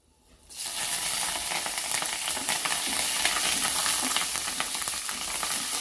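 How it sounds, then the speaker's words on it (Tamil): Fennel seeds and curry leaves hit hot oil with a sudden loud burst of sizzling that then crackles and spits steadily, close up, with no speech. "பெருஞ்சீரகம் பொரிஞ்சோடனே கருவேப்பிலை ஆட் பண்ணிக்கலாம்."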